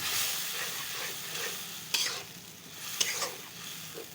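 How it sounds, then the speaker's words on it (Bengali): Onions mixed with spice powder, salt and a little oil frying in a pan, stirred steadily with a soft continuous sizzle and a couple of sharp spatula scrapes, close and fairly quiet. "পেঁয়াজের সাথে ভালো করে মিশিয়ে নেব"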